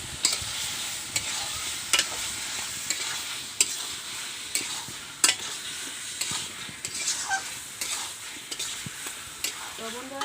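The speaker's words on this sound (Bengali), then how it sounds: "ভেজে রাখা মাংস দিয়ে অল্প কষায় নেব" Fried chicken pieces being stir-fried in a sizzling spice paste for a Bengali chicken curry, with steady frying hiss and repeated sharp scrapes of a spatula against the pan at a regular rhythm, close and alone.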